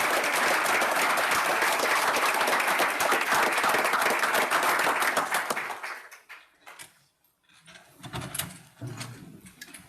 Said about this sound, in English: And if we can give one more round of applause for all of our high-fivers.